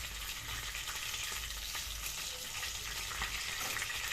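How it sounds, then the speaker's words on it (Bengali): Bay leaf and cumin seeds frying in oil as a tempering for a rohu curd curry, a soft, steady sizzle heard fairly faint with light stirring scrapes. "তেজপাতার সাথে সাদা জিরে ফোড়ন দেওয়া হচ্ছে"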